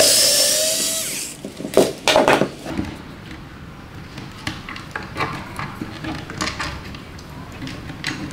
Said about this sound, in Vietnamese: Rồi giờ dùng máy bắn cho nó lẹ, tháo cái củ lôi chép trước thôi.